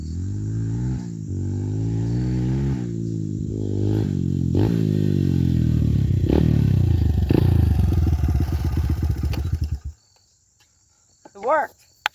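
A dirt bike is roll-started in second gear on a downhill slope, its engine catching and revving loudly with a rising, buzzing pitch for about ten seconds. It then cuts out abruptly, followed by a short, quieter burst near the end.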